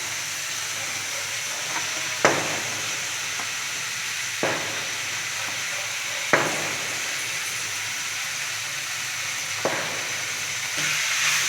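Green chillies and capsicum fry in a pan with a steady, loud sizzle and hiss, broken by a few sharp clanks of a spoon stirring at uneven intervals.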